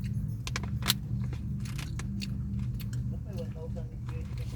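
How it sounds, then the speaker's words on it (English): Gum being chewed close up: soft, wet clicks and smacks in an uneven rhythm over a steady low hum, with one sharper snap near the start. "now I'm just gonna do gum chewing noises"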